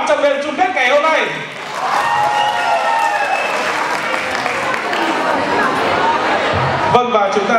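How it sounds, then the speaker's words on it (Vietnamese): Audience applause fills a hall during the final night of a university beauty contest, Miss Economics 2016, honoring the finalists; steady loud clapping mixed with crowd murmur, with brief voices at the start and end. "chúng ta hãy dành một tràng pháo tay thật lớn để cảm ơn tất cả thí sinh có mặt trong đêm chung kết ngày hôm nay"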